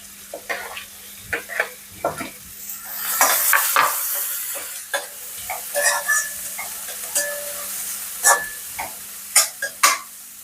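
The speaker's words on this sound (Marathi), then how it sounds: "कांदा आता परततोय" Chopped onion sautéing in hot oil for a leafy-greens vegetable dish, a steady sizzle broken by repeated scraping stirs and clinks of a spoon against the pan, with a faint hum underneath and no talking.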